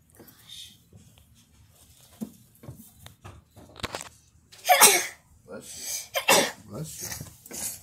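A sudden, sharp sneeze bursts out close by at home during a quiet morning, amid soft breathing and whispery sounds, with a second strong burst following shortly after.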